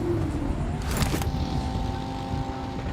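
In the PUBG Mobile video game, a car engine drones steadily with a faint whine running through it, with a brief brighter burst of noise partway through.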